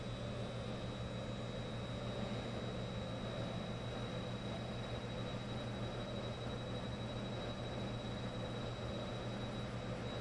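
Simulated Embraer 110 turboprop engine spooling up during start in a flight simulator: a steady, even engine drone with a constant low hum and a thin high whine, heard alone at moderate level.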